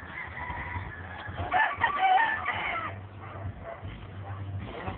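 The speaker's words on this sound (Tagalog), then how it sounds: "Kanyang mga alagang manok, Isparta" Chickens cluck and a rooster crows nearby, with a louder burst of crowing in the middle over a steady low background hum.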